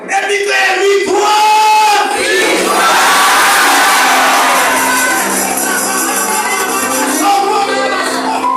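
A church congregation shouts loudly together, a dense roar of many voices swelling after a brief lead-in and staying strong and sustained to the end.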